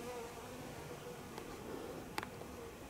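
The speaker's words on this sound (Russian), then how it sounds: "а на самом деле пчелы летают." Bees fly around blooming orchids, a low continuous buzz close by with a couple of brief louder passes.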